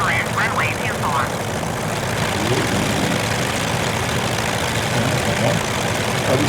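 A Ryan ST-A propeller aircraft in Microsoft Flight Simulator 2020 drones steadily on approach near Wollongong, a constant loud engine hum, with a radio voice briefly heard over it.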